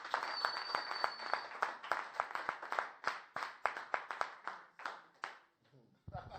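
A church congregation claps together in steady, rhythmic unison, loud and close, with a crowd of hands keeping the beat before the clapping thins and breaks off near the end.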